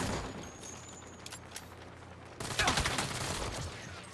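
Bursts of gunfire in the video game Saints Row, a loud dense fusillade of rapid shots starting mid-clip after quieter scattered sounds, with no talking over it.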